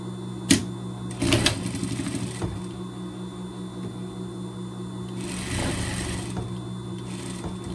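A sewing machine stitches a rib-knit underarm seam on pet pajamas, with its motor humming continuously and short bursts of faster stitching rattling through.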